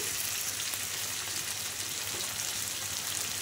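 Spice paste sizzling with a hilsa fish head and yam in a pan, a steady dense hiss that runs unbroken and fairly quiet throughout.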